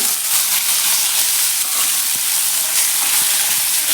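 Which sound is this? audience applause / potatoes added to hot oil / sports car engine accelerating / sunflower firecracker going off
potatoes added to hot oil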